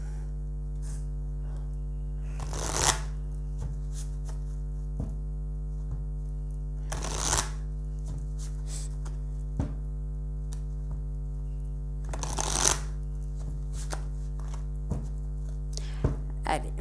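Oracle cards being shuffled by hand, heard as three short, brisk bursts of shuffling spaced several seconds apart, with light taps and soft handling between them over a steady low electrical hum.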